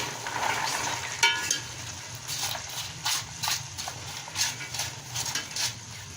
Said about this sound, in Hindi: अब जो ये मिक्स सब्ज़ी कटी हुई है, अब ये सब इसमें जाएगी।